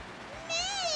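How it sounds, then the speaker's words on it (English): A cat screaming, picked up through a microphone, one rising and falling drawn-out yowl in the second half, faint background before it and no talk. "You can hear my cat screaming through my sister's microphone"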